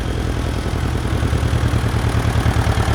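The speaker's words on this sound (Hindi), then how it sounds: "अपने खेत में जाता है और ट्रैक्टर से जुताई करता है।" A tractor ploughing a field, a steady loud low engine drone with a pulsing idle-like rhythm that runs unbroken and close throughout, with no voices.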